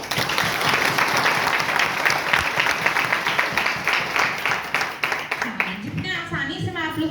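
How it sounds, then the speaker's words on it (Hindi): Loud, dense applause from a large audience at a motivational business talk, sustained and steady, with a voice starting to speak over it near the end. "जोरदार ताली बजाएं।"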